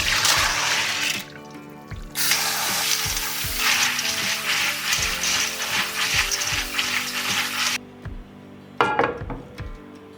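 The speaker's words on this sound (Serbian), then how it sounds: "Pasulj je odstojao i sada ću ga isprati." Soaked beans are rinsed under running water, a loud, steady hiss of tap flow broken by a brief pause and a few knocks and splashes as the beans are stirred.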